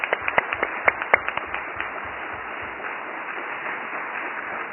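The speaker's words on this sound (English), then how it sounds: "I think he deserves a round of applause." Brief applause from an audience at a town council meeting, a short burst of individual hand claps that quickly thins out into a quiet room murmur.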